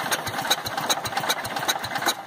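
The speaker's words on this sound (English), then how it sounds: "see if we can get it started" A 1966 Kohler 12 hp engine running on a cold day, a steady close chugging idle with a fast, even knock and a light rattle.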